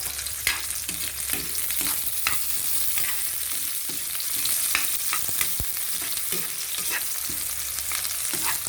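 Ginger dropped into a hot pan for ginataang langka, frying with a steady close sizzle and repeated sharp scrapes and clanks of stirring throughout, no voices.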